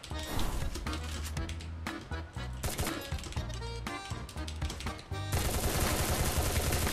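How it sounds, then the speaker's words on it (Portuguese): Rapid gunfire bursts and crashing impacts from a shooter video game, loud and dense throughout, with game music or effects layered underneath and a sharper burst of fire near the end. "Muito tiro."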